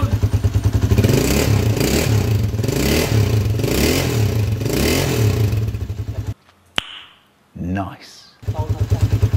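A 1988 Honda TMX155 super trike with a stock exhaust chugs in a loud, rhythmic idle with repeated rev pulses, cutting out briefly before the engine picks up again.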